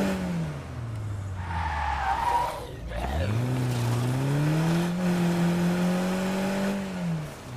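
A smoking, damaged car in State of Decay 2 skids and drives, with a sliding tire squeal up front, then a rising, whining engine that holds steady and loud before easing off.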